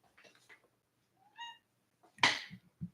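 A house cat meows indoors, with one clear, rising meow in the middle and a louder, rougher vocal burst after it. Quiet shuffling sounds come before and after.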